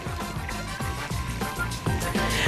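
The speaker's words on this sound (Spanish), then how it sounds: "de este lado tengo también mi cazuela donde voy a poner agua" Water pours into a cooking pot in a home kitchen, a close, steady stream with rhythmic glugging pulses as the pot fills.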